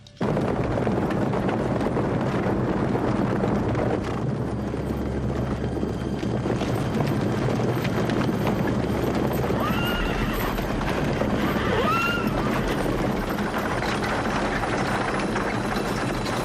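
A steady, dense rumble of many cavalry horses advancing fills the clip, with a couple of whinnies cutting through near the end; from the 1987 film The Lighthorsemen.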